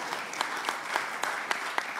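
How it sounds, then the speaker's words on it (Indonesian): Applause at a political declaration event in Indonesia, modest and somewhat distant clapping with a few sharper individual claps standing out at a quicker, irregular rhythm. "Kita berikan tepuk tangan yang meriah buat beliau."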